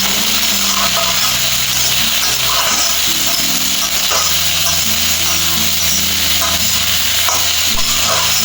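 Shredded cabbage with onion and garlic cooks in a pan, a loud continuous sizzle with tonal hum and scraping from stirring running throughout, close up.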